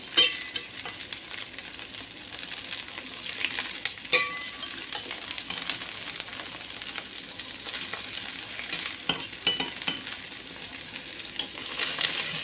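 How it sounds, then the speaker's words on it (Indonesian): Milkfish drops into a pot of boiling broth for Betawi-style pindang bandeng, giving a steady close sizzle and bubbling with occasional clinks of utensils against the pot; no talking. "nah sudah mendidih, sudah bulak-bulak. Kita masukin bandengnya."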